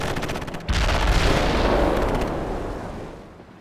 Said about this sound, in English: We need artillery now.